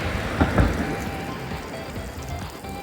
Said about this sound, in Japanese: 実際にこれからですね水道水をシャワーにして雨を想定したような感じで水をかけてみようと思います